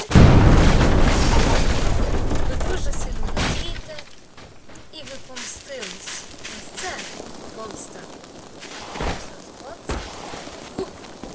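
A bomb blast destroying a cafe: a loud, heavy rumbling boom fills the first few seconds, then cuts off abruptly to a much quieter background with scattered thuds and some talking.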